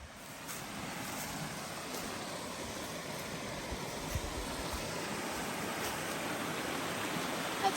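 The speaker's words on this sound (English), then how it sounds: "Oh, a little waterfall down here." Small waterfall along a hiking trail in Killarney Provincial Park, a steady broadband rush of falling water that holds even and continuous throughout, fairly close, with no voices over it.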